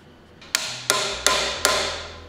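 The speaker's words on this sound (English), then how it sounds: "Then we're gonna hammer it on there again, and hopefully that'll leave a little bit better outline." A hammer strikes a knife guard four times in steady succession to seat it onto the blade, each blow sharp and close with a ringing metallic decay and no talk.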